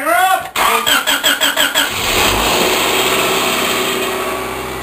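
A Corvair engine with four carburetors and stripped spark plug holes cold-cranks in a garage, starter chugging in about eight rhythmic pulses before it catches and settles into a loud steady idle.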